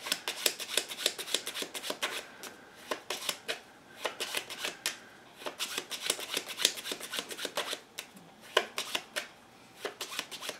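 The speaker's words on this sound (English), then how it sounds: "And now you start to shuffle the deck like this." A deck of playing cards being shuffled by hand, a string of rapid riffling bursts and soft slaps repeating close up with short pauses between, no voices over it.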